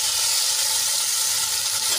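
Garlic and chili paste sizzles in hot oil, a dense, steady crackling hiss, close and loud, with no voices over it.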